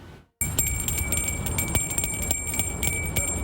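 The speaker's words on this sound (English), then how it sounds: "Bell ringers are out at River Park Square and other local stores." Salvation Army bell ringers outside River Park Square and local stores shake handbells in a continuous bright jingling clatter that starts abruptly after a brief silence and rings loud and steady throughout.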